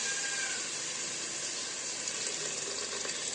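Water pours into spinach and potato in a pressure cooker as a steady, even rushing hiss that lasts the whole stretch, close and unbroken, with no voices.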